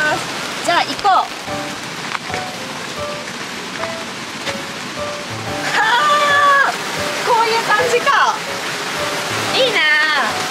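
Hot spring water flows steadily inside a wooden box-shaped bench in a roofed gazebo, a continuous watery rushing close by with people talking over it.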